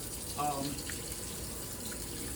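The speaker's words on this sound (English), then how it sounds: "So I'm going to turn the cold water on." Cold water flows from a tap onto an ink-covered screen-printing screen at low pressure, a soft, steady hiss; a brief voice-like tone appears near the start before the flow continues evenly.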